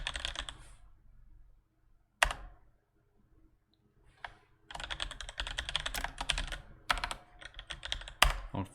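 A password is typed on a computer keyboard during Linux setup in a virtual machine: quiet, close key clicks come in short bursts with pauses between them, and a denser run of rapid typing follows near the end.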